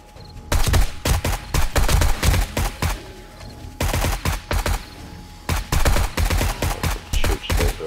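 Rapid gunfire in the zombie survival video game 7 Days to Die, loud repeated bursts of automatic shots with brief pauses between volleys.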